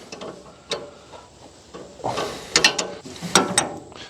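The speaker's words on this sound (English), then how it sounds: "all you got to do is just loosen these bolts here" A ratchet wrench loosens bolts on a firewood processor, giving several quick bursts of clicking ratchet strokes, close and fairly loud, with short pauses between them and no talking.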